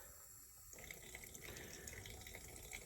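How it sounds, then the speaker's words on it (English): Water from a sink faucet turned on low, starting partway through and then running as a steady close splashing hiss. "I'm just gonna turn this on just a little bit because I don't want to do too much water"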